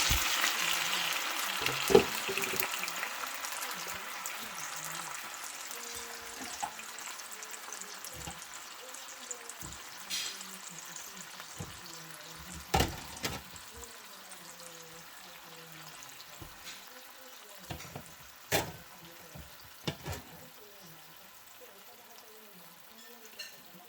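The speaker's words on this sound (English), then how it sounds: "I'm gonna use the same pan to simmer the sauce and the meat." Pork asado meat and sauce simmer together in a pan, a faint, steady low bubbling and soft sizzle with occasional clicks and clinks of a utensil or lid, heard up close and quiet throughout.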